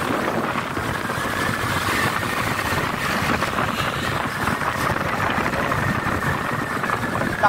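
Suzuki Smash FI motorcycle engine running on the road, a loud continuous engine drone with rough buzzy texture, steady throughout at close range.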